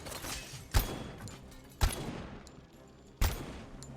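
Rifle fire in the video game Robocop Rogue City: three separate heavy shots spaced about a second apart, each a sharp punchy crack with a quick decaying tail, over a quiet game background.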